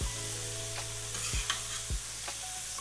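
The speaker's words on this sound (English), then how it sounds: "Push the mince to one side before we get our tortillas." Minced meat sizzles steadily on a hot griddle with a loud, constant frying hiss, while a few scraping strokes push it aside.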